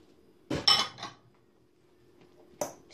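Grated carrot and other ingredients for mücver tipped into a bowl, two bursts of clattering bowl and utensil contact separated by a quiet pause, close and moderately loud, no talking.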